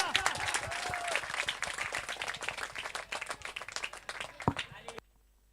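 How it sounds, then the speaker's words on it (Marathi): A crowd claps steadily at a cricket final, waiting for the match's last ball with six runs needed, dense applause filling the space before cutting off abruptly near the end, with voices mixed into the clapping. "फक्त तुमच्या टाळ्या प्रतिसाद हवा या शेवटच्या बॉलसाठी"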